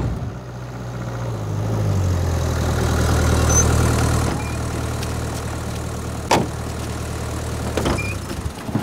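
A car engine idles steadily at night, a low droning hum that swells slightly before settling, with a couple of sharp clicks or knocks later on and no talking.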